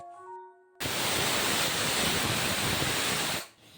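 Clothes are washed in water at home, a loud, steady wash of splashing and running water that starts abruptly, holds for nearly three seconds and then cuts off, heard close with no talk.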